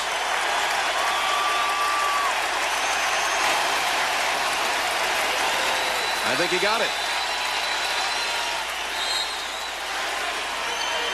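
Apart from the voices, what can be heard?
arena crowd cheering at basketball game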